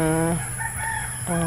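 A rooster crows loudly nearby, a long strained call that rises and falls, over a steady background hum, while herding goats outdoors.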